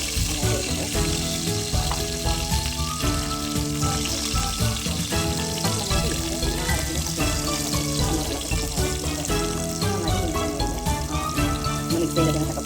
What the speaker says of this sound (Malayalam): കടുക് വറുത്ത് ഞാൻ മൺചട്ടിയിൽ ഉണ്ടാക്കാൻ വെച്ചു